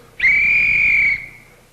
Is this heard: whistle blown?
yes